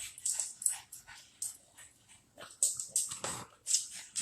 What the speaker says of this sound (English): Della and I are barefoot, so when the dog steps on us, it's a whole nother story.